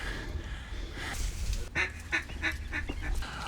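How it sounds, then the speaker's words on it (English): Whistling ducks and teal fly in to roost at dusk over a marsh, a faint run of short whistling calls and wingbeat bursts heard alone at moderate distance. "Already starting to see some birds come in, some whistling ducks that are coming back to roost, some teal starting to buzz us."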